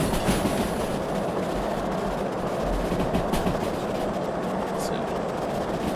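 Locomotive rolling on rails in the Derail Valley train game, a steady broadband rumble and rattle of wheels running continuously and fairly loud, with faint clacking through the whole stretch.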